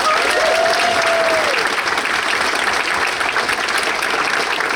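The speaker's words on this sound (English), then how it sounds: "So I want to give them a round of applause." Banquet audience at a boys lacrosse banquet breaks into sustained, loud applause, a dense continuous wash of many hands clapping with a brief vocal whoop early on.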